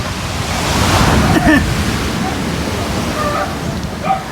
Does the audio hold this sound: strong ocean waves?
yes